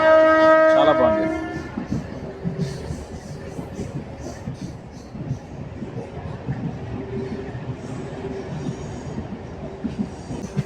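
A Kacheguda–Raichur MEMU passenger train runs along the line, a steady loud rolling roar with wheel clatter and rail squeal, a horn-like tone opening the stretch.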